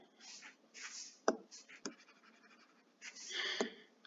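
Pen or pencil scratches across paper while a maths value is written out by hand, in short quiet bursts of scratchy strokes with small taps and pauses between them.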